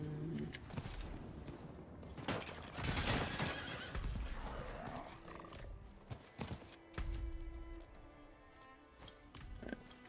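A horse neighs and whinnies in the video game Diablo 4, with clip-clop hooves and game effects around it, fairly loud and close with no talk.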